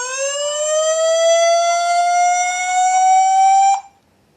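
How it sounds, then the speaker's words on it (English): An indoor 3MP PTZ WiFi camera sounds its strong motion-detection alarm, a loud, shrill electronic tone that rises slightly in pitch and holds steady for almost four seconds before cutting off abruptly. "That is the strong alarm for motion detection"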